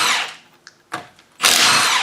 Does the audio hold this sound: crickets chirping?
no